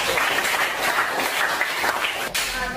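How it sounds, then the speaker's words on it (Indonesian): A class claps together in a steady patter of hands lasting a few seconds, moderately loud and close, with a faint hint of voices beneath. "Tepuk tangan dulu untuk kita semua."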